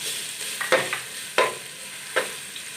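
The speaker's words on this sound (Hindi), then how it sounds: "हल्का सा भून लेंगे।" Ginger garlic paste frying with browned onions in a pan, stirred with a spoon: a gentle continuous sizzle broken by three or four distinct scraping strokes, close up with no talking.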